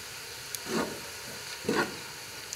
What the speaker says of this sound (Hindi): और अब हम इसमें डालेंगे साबुत मसाला। इसको थोड़ा सा फ्राई करेंगे